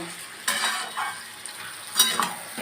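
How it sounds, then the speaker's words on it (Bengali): Fish fries with onions in a pan for a Bengali do-pyaza dish, a steady sizzle broken by louder bursts of stirring and utensil scrapes against the pan. "মাছগুলোকে পেঁয়াজের সাথে আমি, ঠিক আছে, ভেজে নেব। এই দেখো ভাজছি আমি"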